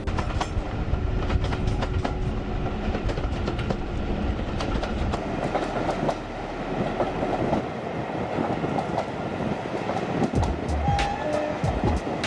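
A heritage steam-era train on the Severn Valley Railway running along the tracks, steady rumble with rhythmic clickety-clack of wheels over rail joints, heard from aboard, with brief squeals and faint voices.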